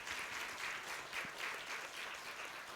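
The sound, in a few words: congregation applause for a newlywed couple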